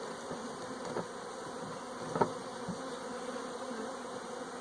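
A steady swarm of honey bees hums continuously during installation of a package into a hive, with a couple of soft knocks from the lid being set on top.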